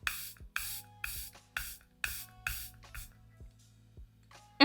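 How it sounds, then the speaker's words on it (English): A makeup setting spray misted onto the face in about seven quick, crisp bursts at a steady rhythm, close and fairly loud, with short quiet gaps between them and a final burst after a pause. "This is still my go-to setting spray."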